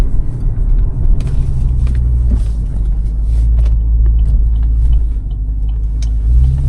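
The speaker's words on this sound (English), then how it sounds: "We are driving nice and early to work." A car driving to work on a cold morning gives a steady, loud low engine rumble and road noise throughout, with faint rattles and bumps from the cabin; no talking.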